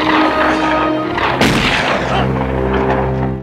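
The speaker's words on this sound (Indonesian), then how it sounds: "langsung melepaskan tembakan ke arah mereka" A loud, sharp film gunshot cuts through a steady low rumble, followed by a rolling boom that fades back into the droning background.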